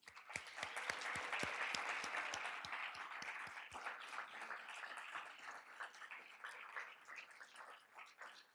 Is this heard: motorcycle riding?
no